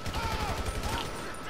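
Rapid gunfire in the video game GTA 5 on a farm map, a quick burst of repeated shots firing in fast rhythm over a short moment, with voices talking alongside.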